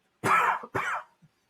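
A person gives two close, loud coughs in quick succession, the first longer and harsher, followed by a faint throaty sound, heard up close with no talking.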